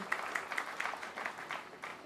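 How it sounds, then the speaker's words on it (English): Faint applause from a small crowd at a North DeKalb Mall demolition press event, steady scattered clapping throughout at a distance. "So one big round of applause for all of them."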